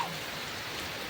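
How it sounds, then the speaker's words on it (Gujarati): Steady rain falling during a windstorm in rural Gujarat, a dense, even hiss of drops on surfaces, close and unbroken with no voices. "આ કઈ થોડોક વરસાદ પડે છે."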